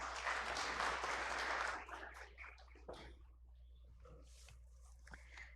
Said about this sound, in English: And a big round of applause for all our speakers on stage